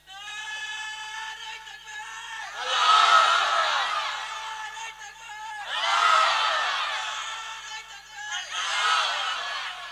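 A large crowd at a religious gathering shouting takbir, three swelling waves of massed voices roaring in unison, each rising and fading over a few seconds, with a high sustained tone between them.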